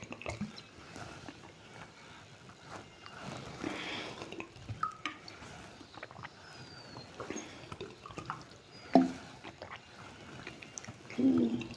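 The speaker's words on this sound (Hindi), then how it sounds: "तब तक मैं थोड़ा सा पानी पी लूँ" Someone sips a little water, giving faint wet drips, gulps and squishy mouth sounds spread over several seconds, with soft clicks and a couple of louder swallows near the end.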